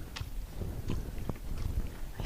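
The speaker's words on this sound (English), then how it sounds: "Still chewing." A horse chewing during a liberty training session, with soft, close crunching and grinding bursts repeating irregularly over a light outdoor background.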